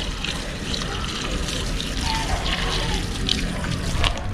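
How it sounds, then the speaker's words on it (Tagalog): Water poured to irrigate eggplants in a hot provincial garden: a steady close splashing and gushing wash with light trickling texture, continuous for the whole stretch. "Todo dilig po natin itong mga talong."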